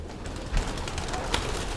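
A fancy pigeon in a loft gives soft, low cooing over a steady, noisy background, faint and brief.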